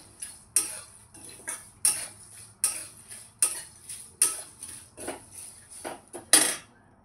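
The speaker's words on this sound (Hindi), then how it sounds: "अब ये सब चीज़ें मैं सेक रही हूँ अच्छे से।" Whole spices, ginger left out, are dry-roasted in a pan for a homemade fragrant masala. A utensil scrapes and clinks against the pan in a steady, regular rhythm of about a dozen sharp strokes, close and alone.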